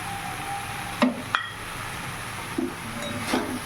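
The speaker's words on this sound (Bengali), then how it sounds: "বেগুনটা ডাটা দিয়ে ভালো করে মিশিয়ে নেবো" Eggplant and drumstick pieces stirred into spiced oil in a pan, a low steady sizzle broken by a few sharp spoon clinks and scrapes against the metal.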